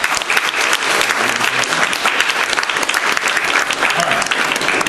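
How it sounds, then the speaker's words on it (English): An audience gives spelling bee winners a loud, sustained round of applause, thick overlapping clapping that holds steady throughout. "let's just give them a round of applause"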